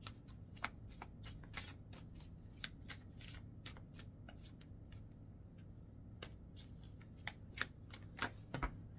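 Tarot cards are shuffled by hand in a quiet room, a steady run of soft crisp riffling snaps repeating throughout, close and faint.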